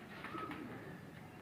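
Soft, low cooing from a Dogar high-flyer pigeon hen, a few gentle murmured coos over a quiet background hiss.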